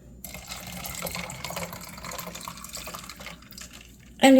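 Cold water runs from a kitchen tap into a sink, a steady, close hissing splash that continues evenly before ending with a brief sharp clink near the close.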